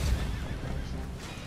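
A horse in the video game Red Dead Redemption 2 lets out a single whinny, fairly faint and heard alone, with light background noise.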